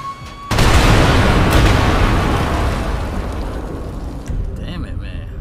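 Sticky bomb exploding in a video game running a realistic gun sound mod: a sudden loud boom with a long rumbling tail that slowly fades, a second smaller burst near the end, and speech picked up faintly alongside.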